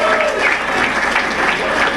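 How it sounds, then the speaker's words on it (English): Audience applause at a Trump victory party in 2016, a dense steady wash of clapping that holds loud and even for two seconds with crowd noise mixed in. "Everybody give Howie Carr a round of applause one more time."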